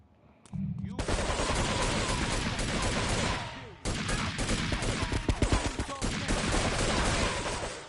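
Sustained automatic gunfire in the video game Grand Theft Auto 3 Definitive Edition, loud dense bursts rattling almost continuously, briefly cut off then resuming with scattered heavier shots.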